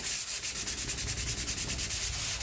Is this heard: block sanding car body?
yes